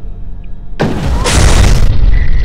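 A battle turret in the video game E.Y.E. Divine Cybermancy fires with a sudden loud boom that rolls into a sustained roaring blast, heavy and close, with no talk over it.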